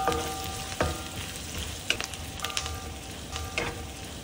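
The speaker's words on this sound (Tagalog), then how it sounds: "saute ang shallots and garlic" Shallots and garlic sizzle steadily in rendered pork fat for a cabbage and pork stir-fry, with close spoon clacks against the pan at intervals.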